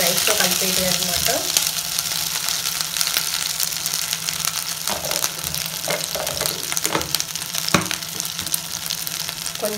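Ingredients frying in a pan for coconut milk rice, a steady sizzle broken by scraping stirs and occasional sharper clinks, close and fairly loud.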